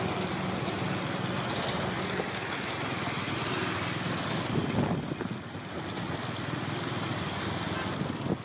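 An old motorcycle with rusted parts, stacked high with bulky cardboard boxes, speeds along a city street, its engine a steady, rough roar blended with surrounding street traffic, no voices.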